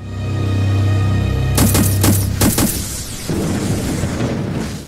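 A loud explosion bursts out in several rapid cracking blasts over a sustained rumble, then fades into crackling debris noise, as a creature scatters explosive scales across an animated battlefield.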